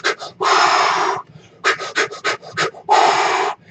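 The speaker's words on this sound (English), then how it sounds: "that's the one where they teach you how to do the breathing technique" Lamaze breathing technique demonstrated with loud, close rhythmic breaths: long forceful exhales alternating with bursts of short quick panting puffs, alone with no talk.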